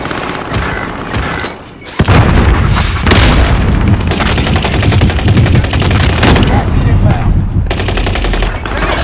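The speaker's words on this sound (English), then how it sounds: "Enemy precision airstrikes." Call of Duty: Modern Warfare battle with precision airstrikes, loud booming blasts and rapid bursts of gunfire packed closely together, with game voice callouts over the din.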